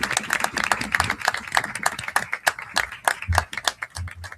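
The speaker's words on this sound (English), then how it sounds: "Would you stand up for just a minute so we can give you a round of applause?" Audience at a school board meeting gives a round of applause for a student, with crisp, closely spaced hand claps filling the room steadily for several seconds, no talking over them.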